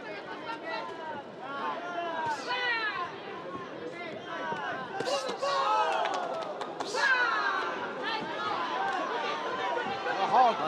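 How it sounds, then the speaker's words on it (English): A crowd roars and cheers at a professional boxing match in Manila, a dense, lively din with excited shouts rising and falling throughout, while voices talk over it. "Well, the crowd's into it now."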